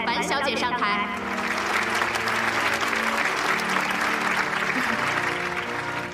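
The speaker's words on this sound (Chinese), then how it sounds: "现在我们再一次用热烈的掌声来祝贺今天的新人" Sustained, loud audience applause fills a wedding ceremony celebration hall, steady clapping from many hands without pause, with a brief musical flourish at the start.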